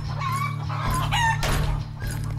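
Farm chickens cluck in short bursts and a rooster crows briefly nearby, all over a steady low background hum.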